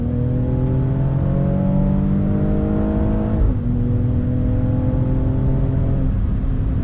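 A 2021 Mercedes-AMG GLE 53 SUV launches from a dead stop, its engine rising strongly through one gear, dipping briefly at a shift, then pulling hard again, heard loud from inside the cabin.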